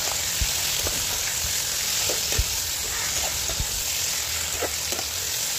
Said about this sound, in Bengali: আর মাংসটাকে ভালোভাবে কষতে থাকবে।